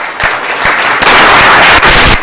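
Applause for candidates at an Atwater League of Women Voters candidates forum: loud, dense clapping from a roomful of people that swells after the first second and holds steady to the end, without talk.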